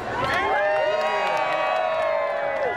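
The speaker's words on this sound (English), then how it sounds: "Big round of applause right here, right now." A large expo crowd cheers and whoops loudly and continuously, with high shouted voices rising over a dense roar of many people.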